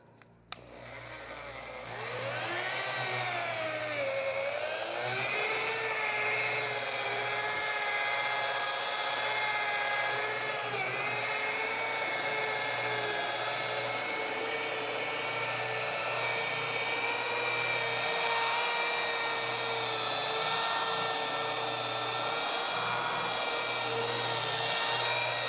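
Rotary polisher working a car hood, a high steady whine that spins up after a brief start and then holds constant and loud, with slight pitch wavering as pressure changes.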